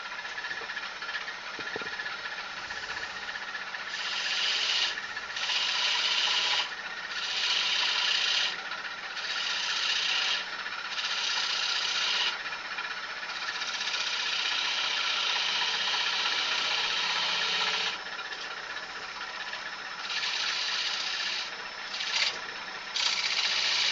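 A skew chisel cutting wood on a lathe, heard as a continuous close rasping hiss over the spinning machine's hum. The cutting sound swells and drops in bursts as the tool meets and leaves the wood.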